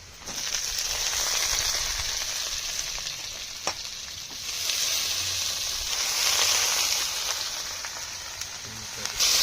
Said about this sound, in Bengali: এবার আমি কুচিয়ে রাখা আলুগুলো দিয়ে দেবো